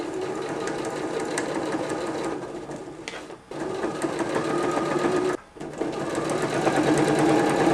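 A sewing machine hums steadily while edge stitching binding on a denim apron, pausing briefly twice before running on at a close, even pace.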